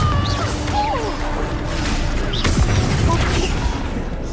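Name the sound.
Confringo explosion spell in Hogwarts Legacy video game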